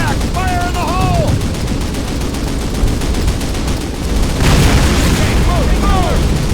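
Gunfire and explosions in the Call of Duty (2003) game, as a flak panzer is blown up: sustained loud battle noise with bursts of shots and a heavy blast surge near the end, with shouted voices and whistling sounds over the din.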